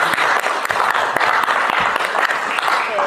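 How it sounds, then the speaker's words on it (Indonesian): Audience at a school teacher presentation on positive culture claps steadily for a speaker, dense sustained applause filling the room for several seconds. "Mari kita beri aplaus untuk Bu Anissa."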